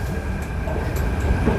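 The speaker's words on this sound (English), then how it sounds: "And that is our train leaving." A Singapore MRT metro train pulls out of an underground station with a steady, loud low rumble and rolling noise that fills the platform.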